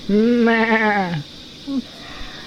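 A person mimics a goat's bleat with a loud, wavering, nasal cry lasting about a second, followed by a brief quieter vocal sound.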